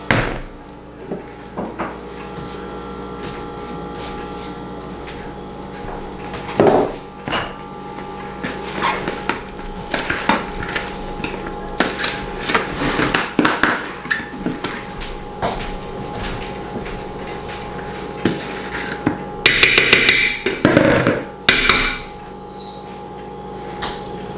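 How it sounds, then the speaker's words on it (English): Shredded cabbage is pounded to draw out juices for fermenting, a series of irregular dull thumps and knocks, close and clear, growing busier with clusters of heavier strikes toward the end. "And then you start the pounding process."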